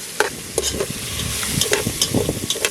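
Saltfish fries in a pan over an open flame, with crackling spits and stirring scrapes forming an uneven, close rhythm of short bursts and no voices.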